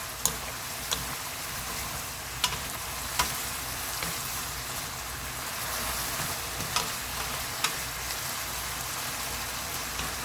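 Steady sizzling of braised potatoes with shishito peppers, sesame oil and sesame seeds in a pan, with occasional light clicks and scrapes of stirring, close and continuous, no voices.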